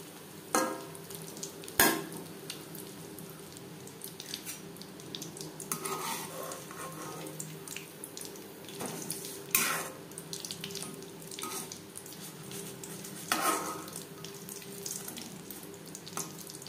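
Egg chops frying in oil over moderate heat, a soft continuous sizzle with several sharp clacks and scrapes from turning and handling them, fairly quiet and without any voices.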